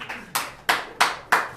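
Four loud, sharp bursts of audience hand clapping at a live comedy show arrive at an even pace, each burst a short flurry of many hands together.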